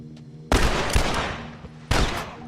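Gunfire in The Last of Us, with two loud, sudden bursts of shots and a fading rumble after each.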